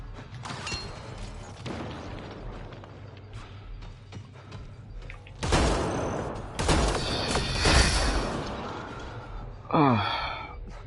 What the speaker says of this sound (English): I'm being shot at by something, I don't know what. Oh, it's up there. It's a turret